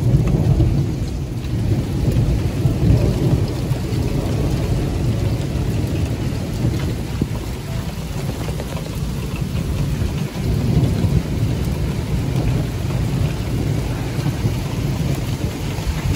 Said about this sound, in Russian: Слышите, какая у нас гроза